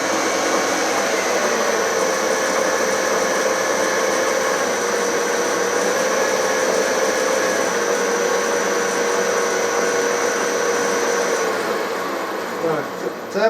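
A 16U04P lathe fitted with a variable frequency drive runs fairly quietly with a steady whirring motor tone and light mechanical whine, then winds down near the end, with no talking.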